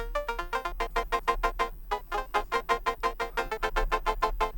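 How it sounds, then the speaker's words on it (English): Synthesizer keys patch recreating a song, played alone as a rapid stream of bright, short staccato chord stabs in a busy syncopated rhythm over a faint low drone. "These keys will sound like this."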